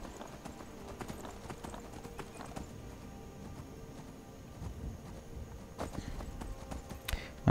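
Horse hooves clip-clop in a steady, fast rhythm against a busy background, with an occasional whinny, as a horse gallops in the video game Skyrim; no talking.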